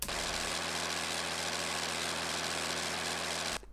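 A simulated BMP engine sound plays through a speaker with a flat response, giving a steady, even drone with a low hum that stops abruptly at the end.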